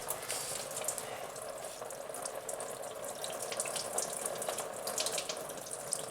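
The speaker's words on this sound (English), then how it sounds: "Make sure we're catching all the coolant." Engine coolant drains from a car's cooling system into a catch pan during a thermostat repair, a steady close splashing, trickling pour that runs unbroken throughout with no talking.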